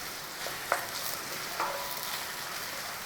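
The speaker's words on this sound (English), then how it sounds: "Nice little saute on in there" Quiet, steady sizzle of herbs with thyme and parsley sautéing in a pan, with a couple of soft stirring clicks and scrapes over the continuous frying hiss.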